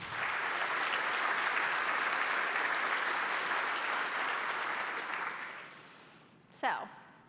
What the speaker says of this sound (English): So I think we should give them a round of applause.